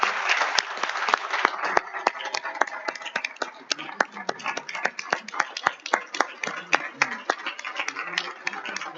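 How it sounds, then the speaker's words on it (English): Applause at a town board meeting, a crowd clapping steadily for about nine seconds with sharp individual claps standing out over a dense wash, with some voices mixed in. "I'd ask you to please give him a big round of applause"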